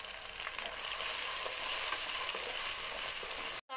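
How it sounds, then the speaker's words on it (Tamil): Onions and tomato paste sauté in hot oil for a chicken curry, giving a steady, close, dense sizzle that carries on without a break until it cuts off sharply near the end. "இப்போ வந்து நம்ம தக்காளி பேஸ்ட் அரைச்சிட்டு வந்தோம்ல, அதை சேர்த்துக்கலாம். இதுவும் சேர்த்து நல்லா வதக்கலாம்"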